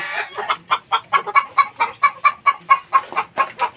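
Close, loud clucking from a gamefowl breeder's hens comes in a regular series of sharp, evenly spaced calls over a busy flock.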